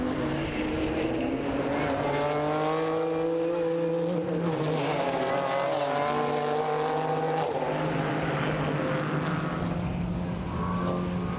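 GT4 race car on a qualifying lap at the Nürburgring, its engine loud and continuous, pitch rising through the gears and dropping on downshifts, close and sustained for the whole stretch.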